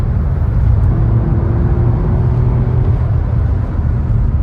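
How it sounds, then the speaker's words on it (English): A Mark 1 Mazda MX-5 drives on a proving-ground test track, heard from inside as a loud, steady low engine drone and road rumble that holds evenly throughout. "That's the Mark 1 MX-5 you want to have a go in."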